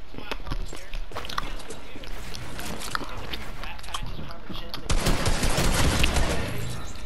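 Gunfire in a multiplayer shooter video game, scattered rapid shots and bursts that swell louder near the end, with players talking over them.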